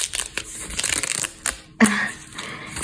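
Paper surprise packet from a McDonald's Happy Meal being torn open and unwrapped: close crinkling and crushing paper rustles, with a sharp tear near the end followed by continued rustling.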